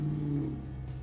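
A truck engine revs and rumbles steadily close by, a low droning tone holding through the short burst with slight swells, with no talking over it.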